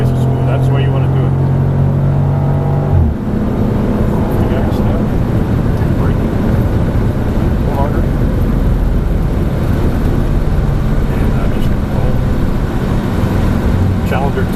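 A Dodge Challenger muscle car drives down a track at speeds up to 110, giving a loud, steady engine and road roar. A droning tone sits on top for the first few seconds, then the roar carries on alone.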